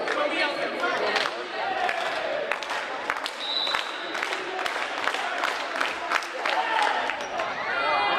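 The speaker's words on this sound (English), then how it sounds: "Getting a synchronized clap to signal match point." Crowd at a boys' high school volleyball match between Union and Roselle Catholic clapping in unison to mark match point, a dense, steady wash of claps and chatter with sharp ball hits and squeaks cutting through.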